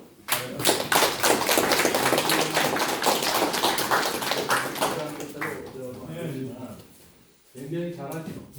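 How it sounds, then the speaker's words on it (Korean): A crowd of residents and staff claps together at a mayor's town meeting in a Bugang-myeon village, with dense, loud applause for several seconds that fades before a voice speaks. "오늘 모처럼 다 모였으니까 우리 여러분들 우리 직원들에서 박수 한번 쳐주십시오"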